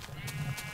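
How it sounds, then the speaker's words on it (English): A sheep bleats in Minecraft, a short, close, wavering cry heard alone. "I need another sheep. Where is it? There you are."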